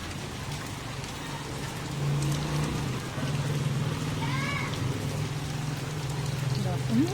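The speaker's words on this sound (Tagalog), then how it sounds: "Umuulan." Steady rain falling on a street in Balibago, Angeles City, a dense continuous patter with a low hum beneath and faint voices nearby.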